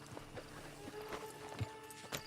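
Horse hooves clip-clopping at a steady walking pace in the open-world video game Red Dead Redemption 2, soft and faint against a low ambient background.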